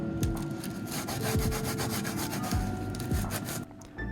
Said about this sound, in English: where I had to use sandpaper to pull the hair up